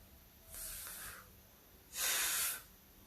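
A voice imitates a seal with two breathy, hissing puffs, a short softer one followed by a louder, longer blast about a second later, close and alone.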